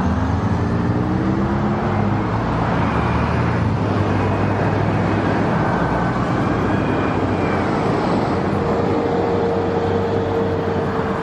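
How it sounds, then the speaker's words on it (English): Constant loud roar of road traffic at a busy, noisy street corner, engines and tyres blending into a dense, unbroken wash with no pauses and no talk. "No, the traffic was too loud."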